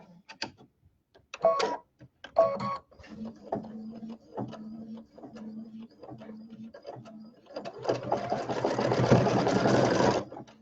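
Sporadic handling clicks and a low hum lead into a sewing machine stitching fabric, a dense, steady mechanical whir starting near the end and running loud and close for a couple of seconds.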